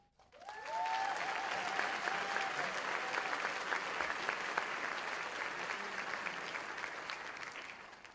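Applause at a university commencement ceremony swells quickly into sustained clapping from a large crowd, steady and even, heard from a distance in a big hall.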